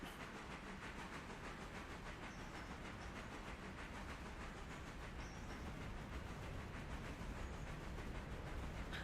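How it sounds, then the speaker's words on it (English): A passenger train sits idling on the tracks, giving off a steady broadband rumble and hiss that holds unchanged throughout, heard from a moderate distance at low level. "Passenger train's gonna be sitting there for a minute."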